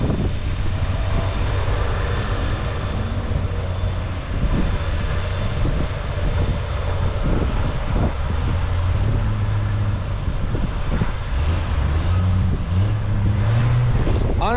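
A truck pulls away from a corn field during corn chopping, its engine a steady low rumble with gusty wind buffeting the microphone, continuous and fairly loud with no talk.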